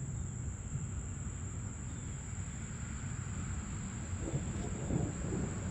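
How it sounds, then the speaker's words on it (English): Distant thunder from summer storms rolls low and steady over a garden, a soft continuous rumble that swells slightly near the end, with a thin high insect drone running throughout. "There's storms all around me. Hear them?"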